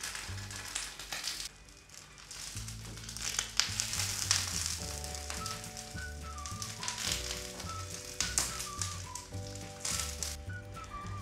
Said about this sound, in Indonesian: Kita mau panggang lemangnya sebentar agar aromanya sama seperti lemang yang dibuat dengan bambu.